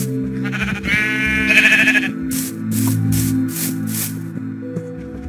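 Sheep in the video game Minecraft bleat several times in quick succession, clear and close, over steady tonal game music and ambient sound.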